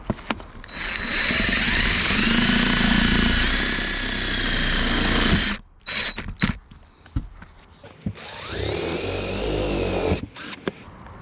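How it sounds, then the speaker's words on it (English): Power drill running in sustained whirring bursts as self-tapping screws are driven into a plastic LED light bar mount on a 4x4 Sprinter van, with a pause in the middle and a second drilling run near the end. "And now I'll insert the self-tapping screws."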